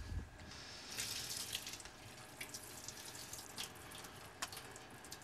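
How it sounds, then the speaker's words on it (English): Water drains from soaked mung beans as they are strained in a kitchen, a quiet, continuous trickling and splashing like a running tap, with small uneven surges and no talk. "I'll strain off my mung beans."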